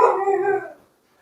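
A dog howls once up close, a loud drawn-out wavering cry that fades out after under a second, leaving silence.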